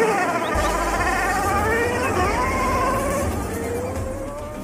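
A toy go-kart emits a steady buzzing, revving engine sound up close, with warbling pitch shifts running continuously throughout and easing slightly toward the end.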